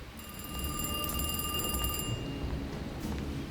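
Old-style telephone bell ringing in the Alone in the Dark remake horror game, a rapid metallic trill lasting about two seconds before cutting off, leaving dim ambient rumble.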